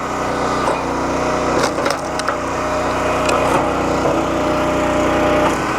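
A firewood log splitter runs continuously with a loud, steady engine drone, while wood cracks and splinters in several sharp bursts.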